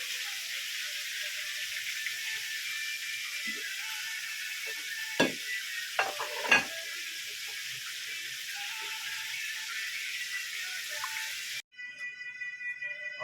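Eight pieces of salmon fry in a pan with a steady, loud sizzling hiss, broken by a few brief clunks, before the sound cuts off abruptly near the end.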